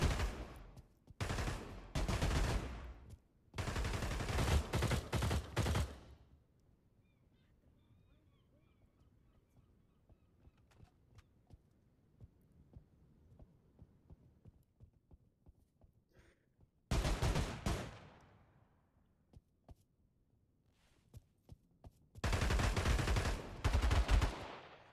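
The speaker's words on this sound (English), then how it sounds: "there are gunshots coming out from over here" Gunfire in an online shooter video game: loud bursts of rapid automatic shots at the start. A long stretch of quieter scattered pops and clicks follows, then more heavy bursts near the end, with no talking over the shots.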